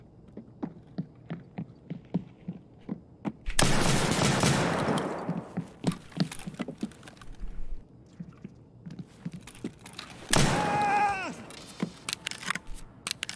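Gunfire in the Factory map of the shooter game Escape from Tarkov: two loud, close bursts of shots with echoing tails, separated by a stretch of sparse clicks and footsteps.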